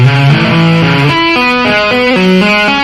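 A distorted electric guitar plays a fast pentatonic tapping lick in a rock style, with rapid legato notes in a steady repeating pattern, loud, close and alone.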